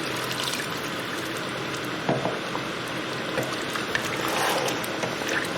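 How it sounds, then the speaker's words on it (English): Water is poured into a pan of chicken karahi cooking on the bone, a soft continuous splashing and bubbling hiss at moderate volume with a few small clinks, and no one speaking. "And again, we're going to put some more water in."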